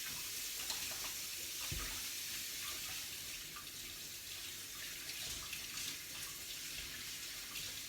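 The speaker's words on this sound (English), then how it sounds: "Now I'm just going to quick wash my hands" A kitchen tap runs steadily for hand washing, a soft continuous hiss of water into a sink with a few faint splashes and knocks, and no one speaking.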